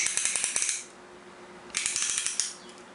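A ring compressor being ratcheted tight over an engine piston during piston and rod installation: two quick bursts of rapid metallic ratchet clicks, close and crisp, separated by a short pause.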